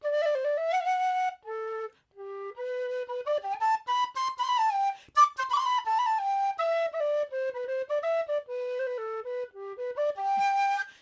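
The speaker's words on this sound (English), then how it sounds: "I have a whole range of these things, otherwise known as penny whistles or traditional flutes." A bright penny whistle plays a lively melody alone, clear and close, with quick runs of notes and brief pauses for breath.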